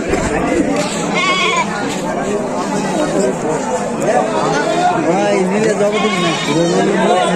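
Goats bleat repeatedly and loudly at a busy rural livestock market in Manipura, their overlapping calls mixing with steady crowd chatter and nearby voices.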